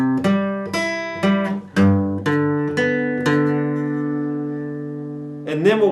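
Guitar plays the opening riff of a song from the start: a steady run of picked notes ringing clearly, the last one sustained for over a second before a sliding string squeak, no voice over it.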